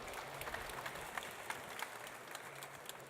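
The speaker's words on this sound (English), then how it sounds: "Round of applause, please, for Rodolfo Frescali." A faint, distant round of applause from the audience at a Suzuki press conference at INTERMOT 2018, with scattered sharper claps standing out from a thin, steady patter.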